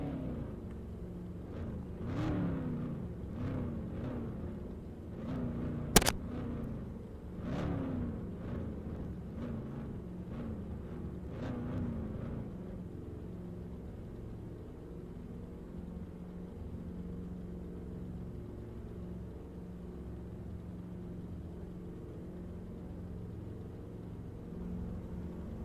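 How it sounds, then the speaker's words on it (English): Cars rev their engines loudly in a racing video game during a mods season finale, a dense overlapping rumble with rising whine sweeps and one sharp spike early, then settling into a steady low drone. "Please do not rev, because those cars are loud"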